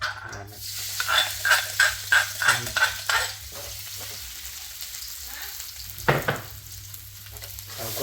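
A paste of chili, garlic, pepper, shallot and lemongrass is stir-fried in a pan for an eel curry, with a steady sizzle under a run of rhythmic spatula scrapes and a sharp clatter near the end.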